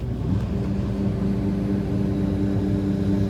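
A combine harvester runs steadily while harvesting beans, a loud continuous low mechanical drone and rumble heard from close by with no talking.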